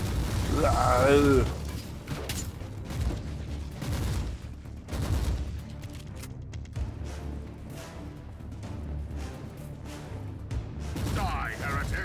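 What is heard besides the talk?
explosive stun frag mines exploding and gunfire, video game Warhammer Inquisitor: Martyr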